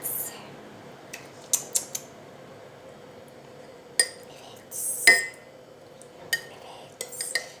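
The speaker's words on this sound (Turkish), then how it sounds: "karıştırmaya devam ediyoruz" A spoon stirs a cocoa milk drink in a cup, making sparse, sharp metallic clinks and scrapes against the side at irregular intervals over quiet room background.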